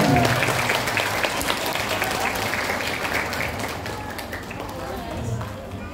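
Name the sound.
audience applause welcoming guests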